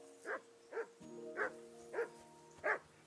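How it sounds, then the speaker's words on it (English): A dog barks five times in the video game Kingdom Come: Deliverance II, with sharp, evenly spaced woofs at moderate distance over a faint droning background. "I assume you can hear that damn dog of yours barking."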